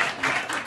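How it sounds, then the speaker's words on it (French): An audience applauds at a live comedy stage show, a brief burst of dense clapping that swells and fades over less than a second. "On peut s'applaudir."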